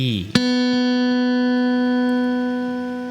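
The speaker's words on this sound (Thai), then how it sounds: "อ่าสาย 2 เสียง B" One pluck of the open B second string on a guitar, struck for tuning, rings long and steady with rich overtones, loud and close, decaying gently by the end with no talk.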